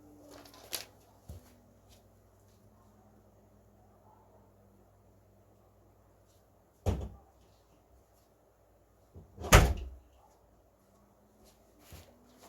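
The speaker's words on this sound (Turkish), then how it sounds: "Kapı kapalı değil değilmiş. Dur kapatıp geliyorum." A door is shut indoors with a few sharp thuds and a heavier knock near the end, set apart by long stretches of quiet room hiss.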